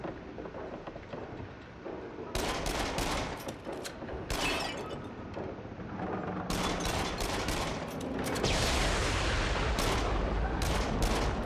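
Gunfire in the VR shooter game Until Dawn: Rush of Blood, haunted lodge level, with bursts of rapid sharp shots and blasts breaking over a dim background rumble, loud and close.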